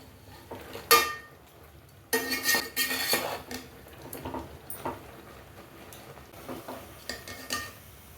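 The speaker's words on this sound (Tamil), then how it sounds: "கீரை வேகிற வரைக்கும் ஒரு வாட்டி கலந்து விட்டுக்கலாங்க" Spinach stirred with a utensil in a pan over a medium flame, giving scattered scraping and clinking strokes against the metal, with a sharp knock near the start and a denser burst of stirring midway, close and moderately loud.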